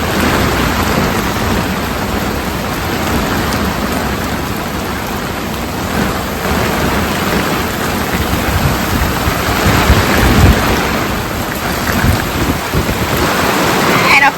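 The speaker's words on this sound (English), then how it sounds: "the rain is just biblical" Heavy rain pours down on a sailboat during a thunderstorm with building wind, a loud, continuous dense hiss and drumming that carries through the whole stretch, with no voices over it.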